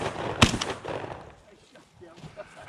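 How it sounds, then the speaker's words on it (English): A single shotgun blast fired at a released bird during a game farm hunt, a sharp loud crack early on followed by a brief decaying rumble and faint background sounds. "Come on, Brent, come on up and shoot it."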